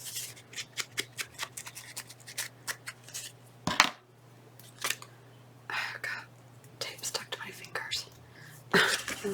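Scissors snip paper in quick, close, crisp cuts for a craft project, with pauses between bursts and soft hand rustling alongside.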